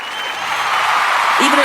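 A studio audience applauding steadily, a dense wash of clapping that stays even throughout, with a voice rising over it near the end.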